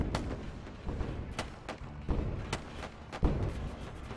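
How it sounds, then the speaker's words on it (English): Enemy ship firing on the player's ship in the space game Wayward Terran Frontier: Zero Falls, a string of sharp blasts and thuds at irregular intervals over a rumbling background. "The ship we're actually worried about is the one currently shooting us."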